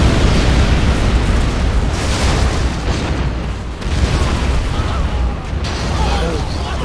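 A Scud Storm missile strike in C&C Zero Hour erupts as a loud, dense rumbling explosion that roars continuously with rolling bursts, staying thick and booming from start to finish.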